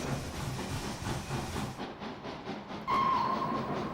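A steam tram runs in the OpenTTD video game, a rhythmic chugging and rail clatter with hiss, followed by a sustained whistle-like tone near the end, and no talking over it.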